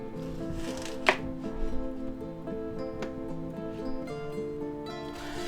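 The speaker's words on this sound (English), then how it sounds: "let's go ahead and slice them up" Onions being sliced into big chunks on a cutting board for a beef and bok choy stir-fry, with a few distinct knife strokes over quiet background music and no speech.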